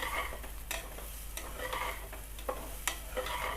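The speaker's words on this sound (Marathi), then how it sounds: "हे पहा, असे सतत परतत राहायचे आहे" Jeera rice being stirred and sautéed in a pressure cooker, a steady soft sizzle with repeated scraping strokes of a spoon recurring every second or so, close and alone.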